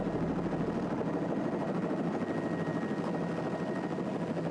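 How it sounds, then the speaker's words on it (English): A helicopter used for wildlife capture in Kenya runs with a steady, dense rotor and engine roar that stays loud and continuous throughout. "the pair will sprint to the chopper and get back in the air"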